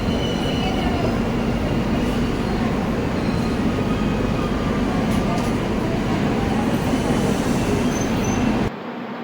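The Secunderabad AC Superfast Express rumbles and rattles loudly around Annavaram station, with heavy wheel noise and faint squeals, then the sound drops abruptly near the end.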